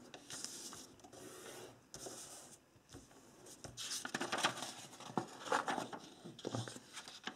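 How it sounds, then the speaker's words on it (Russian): A sheet of paper is creased and folded in half as the first step of making a paper boat, giving soft rubbing, crinkling and sharp swiping strokes close by, growing louder toward the end, with no talk. "Сгибаем лист"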